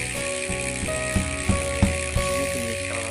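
A Polygon bike's rear hub freewheel ratchet clicks in a steady, close stream with a few louder clacks. The tone is dull and blunt rather than sharp.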